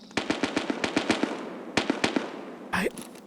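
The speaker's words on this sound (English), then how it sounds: "I think that's a scav shooting" Gunfire from a scav in a first-person shooter video game: a rapid burst of sharp, fairly loud shots, a pause, then a few more quick shots and a short whooshing noise.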